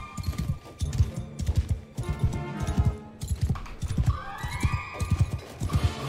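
Horses in a Mount & Blade II: Bannerlord medieval battle neigh and whinny amid rhythmic clip-clopping hooves, with repeated galloping bursts and a shrill whinny near the end, fairly faint in the mix.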